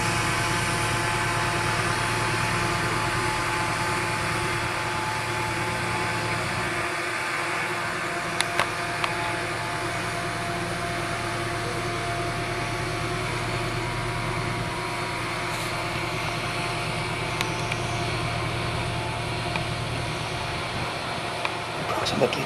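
A tractor engine drones steadily while spraying in a vineyard at Riebeek Kasteel, a continuous broadband mechanical hum with a faint spray hiss, unchanging throughout and heard alone without nearby talk.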